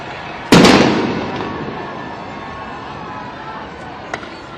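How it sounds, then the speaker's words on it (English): A single loud flash bomb blast goes off up close with a sharp crack and a long rumbling decay, followed later by a faint distant pop. "those flash bombs, you know, they don't necessarily hurt you with projectiles, but the impact of the explosion"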